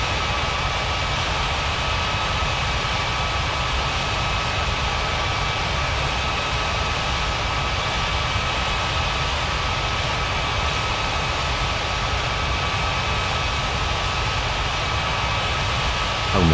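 Steady jet engine roar of an airliner taxiing to the gates in an air traffic control game, a constant, even whine and rush that holds unchanged throughout, with no voices.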